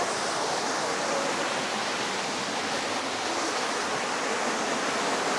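A heavy-flowing mountain waterfall in Hunan, swollen by two months of rain, roars as a loud, steady, broadband rush with no voices.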